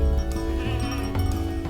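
A flock of about fifty ewes, kept with three guardian dogs at a sheepdog training ground, bleats loudly and close, several overlapping drawn-out calls filling the moment.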